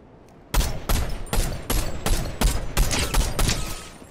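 Rapid gunfire from a Fortnite match, a loud close burst of repeated shots in a quick uneven rhythm lasting several seconds, with no talk over it.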